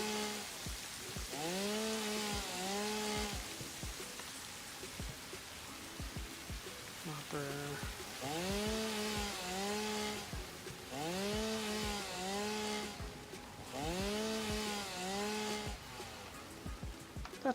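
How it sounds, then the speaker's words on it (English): A chainsaw in the video game Satisfactory cuts down plants, with repeated revving bursts of engine whine rising and falling in pairs across the stretch, loud and steady with a buzzy undertone. "so we're gonna use the chainsaw."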